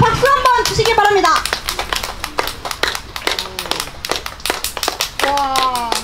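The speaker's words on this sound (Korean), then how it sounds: "자, 박수 한번 주시기 바랍니다" An outdoor audience at a rainy martial arts demonstration claps in scattered, uneven bursts, close by. Voices, including high exclamations, rise through and around the claps.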